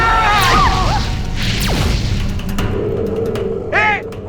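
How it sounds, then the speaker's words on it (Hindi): A few sharp firecracker bursts and crackling bangs with whistling, sweeping tones, loud and close over a busy background, fading out near the end. "अब दिवाली के पटाखे कौन फोड़ रहा है बाहर?"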